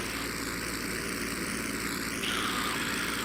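A Curtiss P-40E Warhawk fighter in flight, its propeller engine droning as a loud, steady roar throughout, rising slightly in pitch and brightness near the end.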